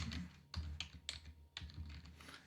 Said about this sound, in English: once you type that in up there, we'll just go ahead and hit enter